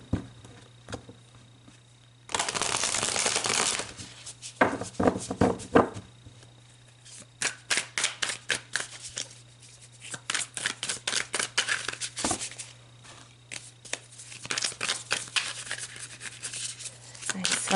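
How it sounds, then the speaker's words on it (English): A tarot deck is shuffled close by in repeated bursts of riffling, rubbing card sounds separated by brief pauses, with no one talking and a faint steady hum underneath. "I want to get them really good and shuffled, so just bear with me for a second."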